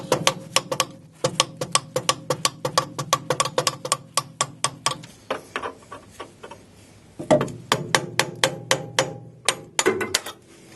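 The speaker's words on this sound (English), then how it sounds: "just a tap of a hammer and a drift maybe, I can get that" Sharp metallic hammer strikes on a drift, driving out a suspension bolt on a 1275 MG Midget, delivered in quick bursts of repeated taps with short pauses between the groups.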